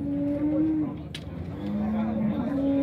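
A dairy cow at a livestock fair in Dois Riachos, Alagoas, gives a long, steady low moo that wavers in pitch, fairly close, with faint crowd murmur and a brief sharp clatter in the background.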